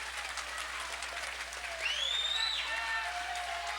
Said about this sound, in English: Crowd definitely starting to get into it now.